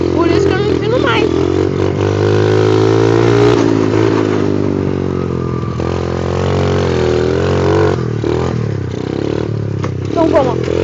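A motorcycle with no working brakes is ridden while popping wheelies. The engine roars loud and close, its pitch rising and falling with the throttle throughout.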